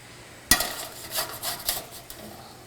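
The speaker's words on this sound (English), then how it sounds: "And then we're just going to give it a real good mix in." Utensils stirring vegetables into a quinoa salad in a home kitchen: a sharp clink followed by a few scraping, clattering strokes over about two seconds, close and fairly loud, with no talk.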